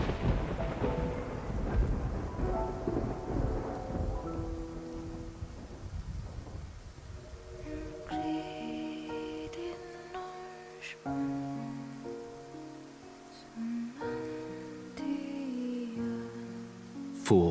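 Stormy sea in a video game, with heavy rain and rumbling thunder building through the first half, then dramatic orchestral music and sharp accents taking over as the storm continues beneath.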